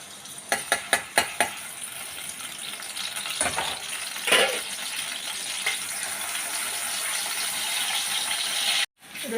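Garlic paste frying in hot white oil in a wok for Bengali chili paneer: a few sharp clinks open, then a steady close sizzling hiss with a brief louder flare midway, stopping abruptly near the end.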